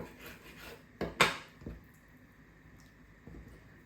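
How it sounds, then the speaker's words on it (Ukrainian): Knife strokes cutting through mackerel on a board, with a sharp scraping knock in the middle and softer slicing sounds around it, close up. "Рибку я нарізаю."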